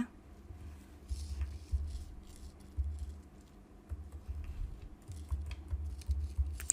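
Keystrokes on a computer keyboard during data entry in accounting software, quiet clicks in loose bursts and pauses over a low room hum, no voice.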